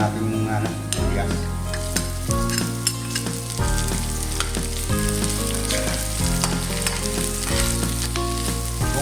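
Onions dropped into a pan for chicken sotanghon soup, frying and sizzling steadily while being stirred, with rhythmic scraping strokes up close.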